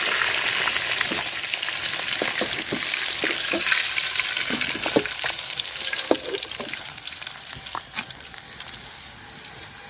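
Onion and chili sizzling in oil left over from frying rohu fish, with loud steady crackling and frequent scraping stirs against the pan that ease slightly toward the end.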